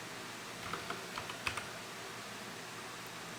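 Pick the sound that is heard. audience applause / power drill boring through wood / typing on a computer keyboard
typing on a computer keyboard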